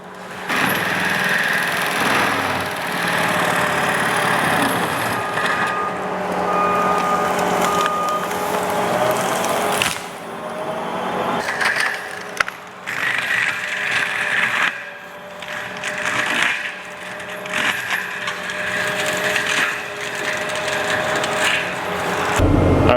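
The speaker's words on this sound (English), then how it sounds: "he's just going to take on the top of the tree and mulch all the limbs" A forestry mulcher grinds up the limbs of a felled treetop, its engine roaring steadily with crunching, chipping wood noise that rises and dips throughout, loud and continuous.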